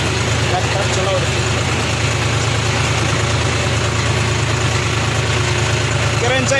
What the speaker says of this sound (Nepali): ट्र्याक्टर चलाउने